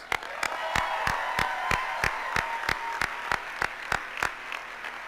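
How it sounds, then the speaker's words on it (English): A graduation ceremony audience applauds, with a wash of crowd clapping and a few louder, sharper individual claps repeating steadily near the microphone. "Give yourselves a round of applause."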